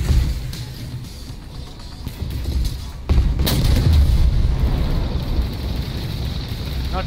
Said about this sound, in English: Not too worried about the cannon fire